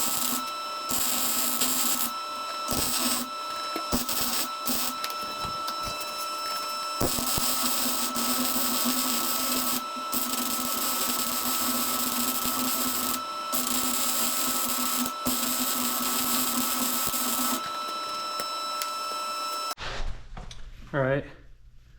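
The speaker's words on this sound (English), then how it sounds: "get the MIG fired up and weld that plate onto the frame." A MIG welder lays a bead joining a plate to the frame of a CBR900RR-engined cross kart, giving a steady close crackling buzz broken by several brief pauses, then cutting out near the end.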